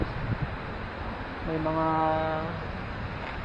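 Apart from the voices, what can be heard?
gusty wind outdoors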